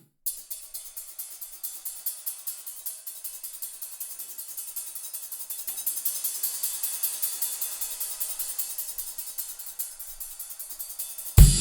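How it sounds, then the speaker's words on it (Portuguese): A drum kit groove with the cymbal dampened by a clothespin clipped to it, giving short, choked, dry hits in a steady rhythm that build slightly in loudness, played alone without talking and ending on a louder accent. "Aí eu consegui um pregador de roupa e aí eu coloquei no prato pra secar."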